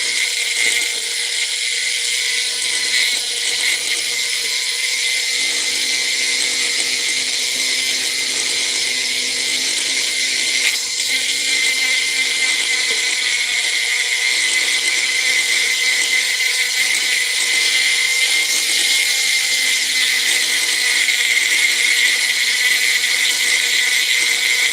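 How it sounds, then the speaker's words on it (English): A Dremel rotary tool runs steadily at a workbench, a continuous high-pitched whine that holds at a constant loud level for the whole stretch with only slight wavering. "Man, I just love this Dremel."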